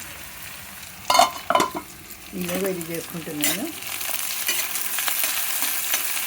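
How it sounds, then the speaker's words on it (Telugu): Fenugreek greens and tomatoes frying in a pan, with a few sharp spatula clinks and scrapes, then a steady sizzle that grows louder, and someone talking briefly over the cooking. "ఇవంతా బాగా వేయించుకుంటాం, కొంచెం మగ్గాలి అంతే"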